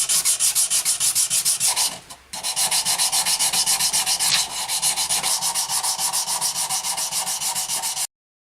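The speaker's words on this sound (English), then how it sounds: "You're going to be doing a lot of hand polishing." Hand polishing of a forged straight razor blade: a steady run of quick back-and-forth rubbing strokes, close and loud, briefly pausing before resuming the same fast rhythm.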